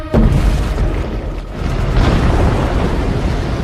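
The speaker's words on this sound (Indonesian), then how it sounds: "Seketika ditembak dengan meriam," A heavy cannon blast booms in the film Mulan (2020), then a loud rumbling roar continues, dense and low, like cinematic battle explosions.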